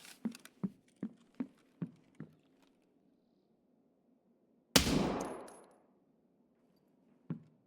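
Rapid bursts of gunfire from a machine gun in a PvE Labs video game match, about six sharp shots in a quick rhythm, then a long loud blast and a single later report.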